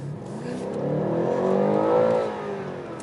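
A 2020 BMW M8 Competition with a 625 hp engine accelerating in Sport Plus mode, its engine note rising steadily through the revs and swelling in loudness before easing off, heard clearly with no talk.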